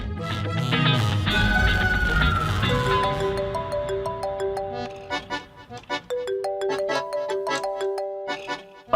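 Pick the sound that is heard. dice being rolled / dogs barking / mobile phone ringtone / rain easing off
mobile phone ringtone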